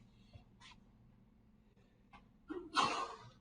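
A single sharp sneeze bursts out near the end, preceded by a few faint breathy sounds in an otherwise quiet room.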